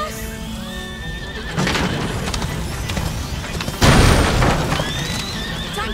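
A horse neighs in the video game A Plague Tale: Innocence, with a loud whinny near the start and another later, amid heavy booming crashes and chaotic game action.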